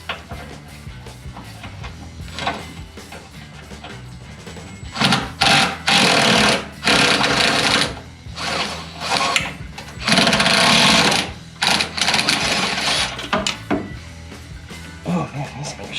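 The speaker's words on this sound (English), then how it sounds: "I know I'm using chrome sockets on an impact driver." Bursts from an impact driver with a chrome socket hammering out exhaust hanger bolts under a Jeep Gladiator in a garage, several loud rattling runs of a second or two separated by pauses.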